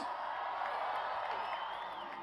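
Audience at a Perth pantomime, Sinbad, cheering for the cast, a dense, continuous wash of crowd noise with whoops and shouts, loud and steady throughout.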